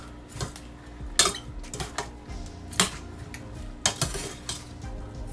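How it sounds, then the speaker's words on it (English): A spoon clanks and scrapes in a pot as a salt fish mixture is stirred, irregular metallic knocks over a steady low background, no talking. "I'm going to go ahead and give this a little mix"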